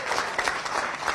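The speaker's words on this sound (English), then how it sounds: "Give Kenny a round of applause." A brief burst of studio audience clapping during a live Scotland football matchday show, dense and continuous for about a second.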